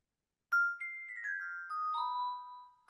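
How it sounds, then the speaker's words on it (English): A vibraphone fill in a music sample, a few bright mallet notes stepping downward with soft ringing sustain, clean and fairly quiet, starting after a moment of silence. "And then Akira suggested like a vibraphone fill"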